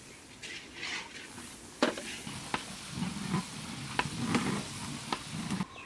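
Ground spices frying in a village kitchen pan for a drumstick and egg curry, a steady close sizzle with crackling spatter and sharp clicks of a spoon stirring against the pan.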